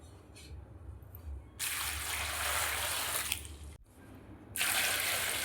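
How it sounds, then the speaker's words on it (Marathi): Water splashes and runs in a wide vessel as green chillies are washed, with quieter swishing at first, then a steady loud rush of running water broken by a brief pause before it resumes. "त्याच्यात सगळ्या मिरच्या टाकून मिरच्या चांगल्या स्वच्छ धुवून घेणार आहे."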